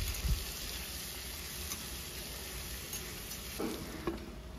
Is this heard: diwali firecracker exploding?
no